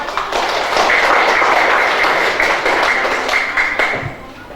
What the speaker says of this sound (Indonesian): Jawab tepuk tangan dulu buat Roshi.